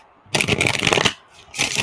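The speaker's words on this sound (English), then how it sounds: "That shuffle was kind of tight." Tarot cards being shuffled in two loud, close riffling bursts, the first lasting close to a second and the second starting after a short pause, with no talking.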